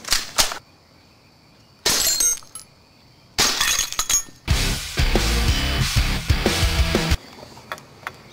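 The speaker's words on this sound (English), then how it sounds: "gonna try to break a beer bottle with my gas airsoft handgun" A beer bottle shot with a gas airsoft handgun breaks with sharp cracks, then a longer loud spell of shattering and clattering glass. Several bursts sound close up.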